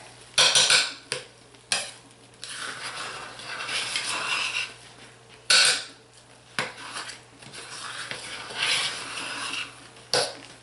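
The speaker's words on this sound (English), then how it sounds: "Give this a nice stir." Turmeric and paprika soap batter is stirred in a crockpot with a utensil, giving repeated clinks and scrapes against the pot in bursts, with a cough or throat clearing between strokes.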